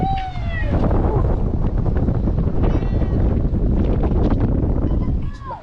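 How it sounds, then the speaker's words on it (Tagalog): Strong wind buffets the microphone in a steady, loud rumble, with brief high-pitched bleating or squealing sounds near the start and end. "Lakas ng hangin."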